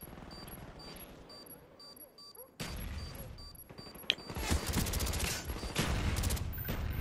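Gunfire in the video game Call of Duty: Black Ops, heard as a busy burst of shots and clattering effects that grows louder midway through, over beeping game interface tones and faint background voices.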